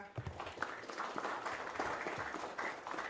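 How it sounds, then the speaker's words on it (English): Sustained applause from a crowd at a certificate handover ceremony, dense clapping filling the whole stretch at a steady, moderately loud level. "Another big hand of applause for the Honorable Minister"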